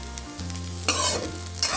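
Okra frying in sesame oil in a pan, a steady close sizzle with stirring scrapes and a brighter burst of crackle midway, no voices.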